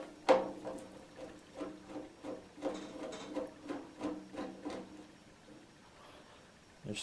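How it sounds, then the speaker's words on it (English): An old number 2 Phillips screwdriver backs screws out of a Ronco Showtime rotisserie, giving a steady run of about a dozen close, soft creaking clicks with a sharper snap at the start and a quiet pause near the end. "So we're going to go ahead and remove all of the screws"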